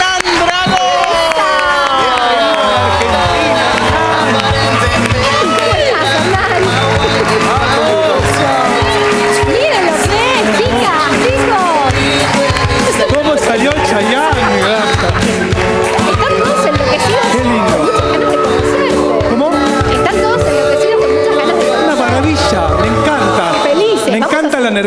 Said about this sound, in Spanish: lo recibimos con gritos y aplausos con nosotros